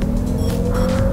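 Jaguar I-PACE electric car accelerating in Dynamic mode, its synthetic drive sound a steady hum with a rising tonal whine, loud and close, without speech.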